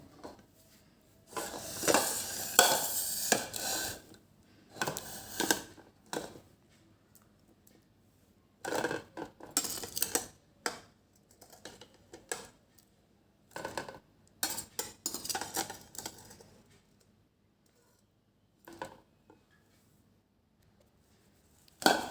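Soaked dry dates are tossed about in a metal colander to drain, producing bursts of rattling, clattering shakes separated by quiet pauses, close and moderately loud without speech.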